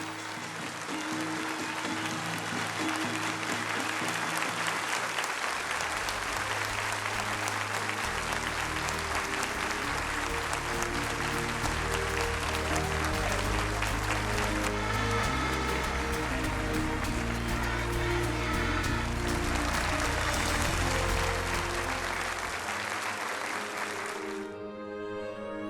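Sustained standing ovation from a Colombian audience after a children's dance and song troupe's performance, dense loud clapping filling the hall for about twenty seconds over lingering music, then fading near the end.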